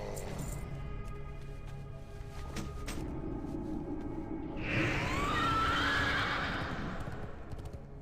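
A horse in World of Warcraft: Wrath of the Lich King Classic gives a loud, clear whinny partway through, over a steady background of game ambience and faint hoof clopping.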